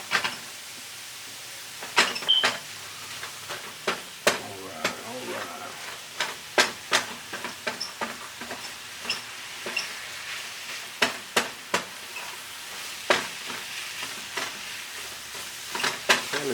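Mushrooms sizzling in a pan for vegan red curry ramen, with repeated sharp scraping and clacking strokes of a utensil stirring over a soft steady frying hiss, close and fairly loud.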